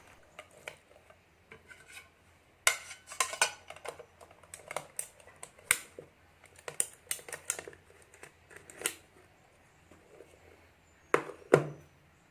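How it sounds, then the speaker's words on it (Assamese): Fried luchi cut into small pieces makes a series of close, crisp chopping and scraping taps in irregular bursts, with short pauses between them. "লুচিবিলাক এনেকৈ সৰু সৰুকৈ কাটি দিলে ই খাই ভাল পায়"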